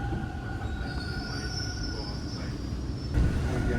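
A Toronto Bloor-Danforth subway train runs on its rails with a continuous low rumble and a thin, sustained wheel squeal overhead, loud and close, ending in a heavier thump near the end.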